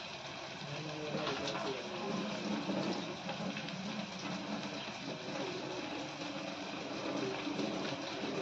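Water is drained off food cooking on a low gas flame, a continuous, fairly faint rushing and trickling wash that runs steadily throughout.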